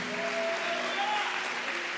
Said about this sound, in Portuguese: Aplauda mais forte, querido.